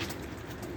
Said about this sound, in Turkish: Ha, kuş gelmiş ya.